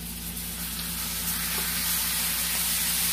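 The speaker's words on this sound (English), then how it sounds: "So you have to hear the sizzle sound." Beef sizzles steadily in butter in a hot pan, a continuous bright hiss with a low hum underneath and nobody speaking.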